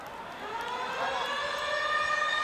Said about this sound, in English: So the siren in the background